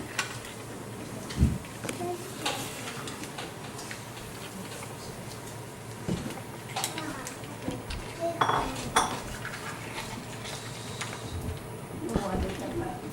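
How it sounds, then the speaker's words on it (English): Seafood paella rice tossed in its cooking pot, with scattered clinks and scrapes of metal utensils against the pan over a steady kitchen background hiss. "we are going to toss it a little bit just to make sure the juices are all gone"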